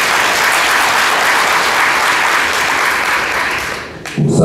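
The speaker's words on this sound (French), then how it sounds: "Je demande à l'Assemblée d'applaudir le président Talon." Loud, dense applause from a large assembly at an official ceremony in Benin, a continuous roar of clapping that thins near the end before a new louder sound cuts in.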